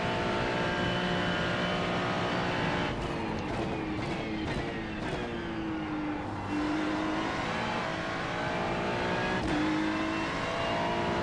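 Race car engine in the iRacing sim at Mount Panorama, a loud continuous howl that climbs through the revs, drops at quick gear shifts and rises again across the lap.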